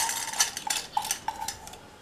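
Washed moong dal goes into a cooking pot with a few soft, scattered clinks and taps against the metal, faint and brief, with no talking.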